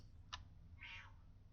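A pet cat gives two quiet meows, a short chirp followed by a longer drawn-out call, against low background hum.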